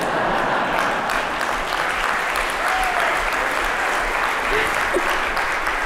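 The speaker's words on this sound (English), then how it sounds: "That definitely deserved an applause." Keynote audience bursts into loud, dense applause that fills the room continuously, with faint cheers or voices briefly rising within the clapping.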